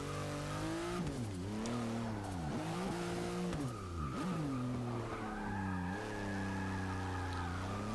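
A 1963 Volkswagen Beetle in Forza 6 laps a track, its engine revving up and dropping through repeated gear changes while tires squeal and skid. The sound is loud and close, with no talking.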